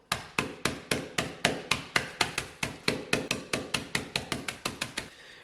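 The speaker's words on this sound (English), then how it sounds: "First thing we do is we get 6 Biscoff biscuits and gently crush them up." Biscoff biscuits being crushed for a no-bake cheesecake, a rapid run of about two dozen sharp, evenly spaced pounding knocks, close and loud, slightly speeding up toward the end.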